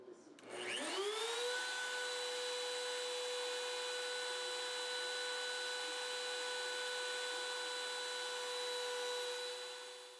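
Woodworking machine cutting a V groove through the end grain of a wood banding piece held by a hold-down and push stick, spinning up into a loud steady whine that holds for several seconds before easing off.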